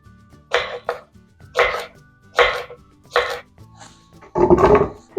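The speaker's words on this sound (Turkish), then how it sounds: "Şöyle salatalıkları doğrayalım." A knife chops cucumbers on a board in several quick bursts, with short pauses between, close and fairly loud.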